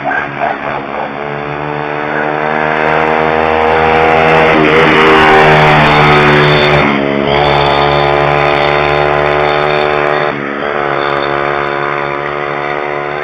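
A mini bike engine revs with a steady, buzzing harmonic drone as its throttle is pumped near a neighborhood road, loud and sustained with a couple of brief dips in pitch.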